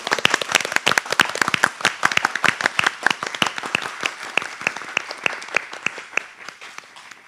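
Audience applause closing a panel discussion at a symposium on floating offshore wind power, a burst of dense, close clapping that thins toward the end.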